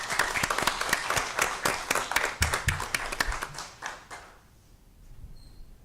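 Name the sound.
round of applause for students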